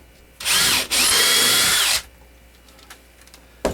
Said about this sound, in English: gotta drill it first